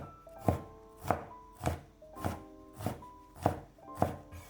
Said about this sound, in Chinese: 半个青椒先切成细丝， 再改刀切成小丁